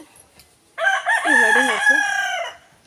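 A rooster crows loudly and close by from a neighbouring yard, one long drawn-out crow with a rising then falling pitch; a brief word is spoken just before it.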